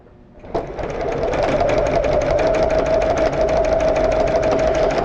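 An embroidery sewing machine starts up and stitches a cherry rug design, settling into a loud, fast, steady mechanical chatter that runs on alone without pause.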